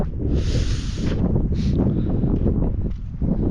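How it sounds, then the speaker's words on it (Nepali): Strong wind buffets the microphone on a hilltop near a temple, a loud rumbling gust with brief hissing bursts and rustle, close and continuous over a few seconds. "पुरै आँखाबाट आँसु आइसक्यो पुरै हावा चलेर यताबाट"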